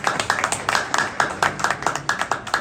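An audience applauds at a ceremony where a BYD car is presented as an award, irregular bursts of clapping from a modest crowd, fairly close, with quick sharp hand strikes in uneven clusters.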